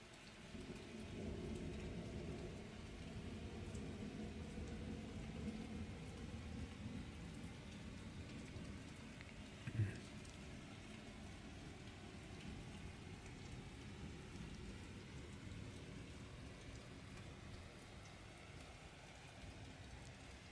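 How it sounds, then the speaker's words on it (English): Heavy rain pouring steadily in a thunderstorm, a dense continuous hiss with a faint low rumble of thunder and a brief knock midway, recorded at low level with no voices. "it's raining really hard. Can you hear it?"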